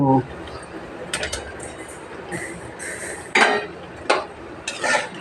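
A cooking pot lid is lifted off on a gas stove set to low flame, giving a few sharp metallic clinks and scrapes of lid against rim, close and fairly clear over quiet kitchen background.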